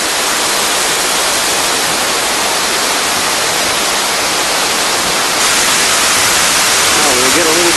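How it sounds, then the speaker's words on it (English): Pressurized water gushes out from underground into a river with a loud, unbroken roar like heavy rushing noise. It stays close and constant throughout, with a brief voice surfacing near the end. "And you can hear the roar that the water makes as it comes out from the underground."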